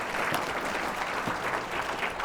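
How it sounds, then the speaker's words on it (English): Steady audience applause fills a Columbus Metropolitan Club gathering, a dense, close wash of clapping hands from a seated crowd that holds evenly throughout without letting up. "how about another round of applause for Mark?"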